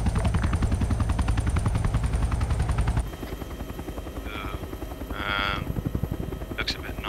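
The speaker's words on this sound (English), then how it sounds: "I think I can hear the Chinook" Chinook helicopter approaching an ArmA 3 landing zone in a video game, a steady pulsing rotor thump that stays loud for three seconds, then drops back under scattered gunfire and brief hissing bursts.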